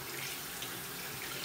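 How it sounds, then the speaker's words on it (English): Water runs from a tap at a sink in a steady, even hiss while hands are washed, faint and continuous with no talking. "gonna wash my hands now"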